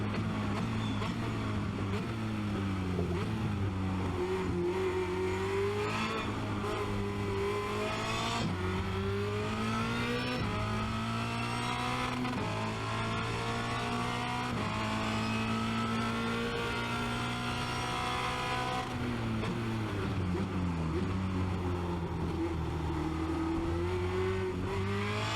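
Formula Renault 2.0 race car lapping the Spa-Francorchamps Grand Prix circuit, its engine droning loud and steady with rising and falling pitch through gear changes and corners, continuous throughout.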